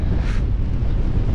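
Strong wind gusts across an exposed mountain ridge in the Lake District, a loud, steady roar buffeting the microphone throughout with no voices.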